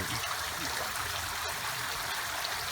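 Artificial waterfall in a home garden with a fish pond, a steady broad splash and trickle of falling water, close and even throughout, no voices.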